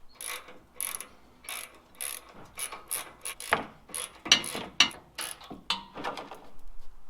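A ratchet wrench removes the 14mm bumper bolts on a Toyota 4Runner, with a close series of quick, uneven clicking bursts and a few louder metallic knocks, with no talk.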